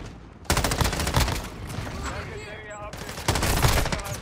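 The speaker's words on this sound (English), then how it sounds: "I'm literally shooting" Rapid bursts of M13B rifle fire in a multiplayer video game crackle loudly, a dense volley at the start and another near the end, with quieter clatter and faint game sounds in between.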